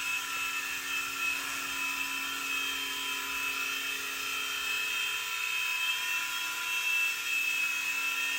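A small Blade mCX coaxial RC helicopter hovers nearby with a steady high-pitched whine of its tiny electric motors and rotor buzz, continuous and even.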